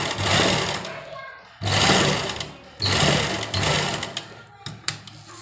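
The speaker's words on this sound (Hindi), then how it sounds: "इसी तरह घुमाते हुए इसको सिलाई लगाते रहेंगे।" A sewing machine stitches a pocket onto a kurta, its loud, steady mechanical whir running in three bursts separated by short pauses as the fabric is turned.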